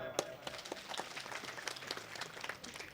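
Faint, scattered clapping from an audience at a live comedy performance, somewhat distant and uneven, lasting a few seconds.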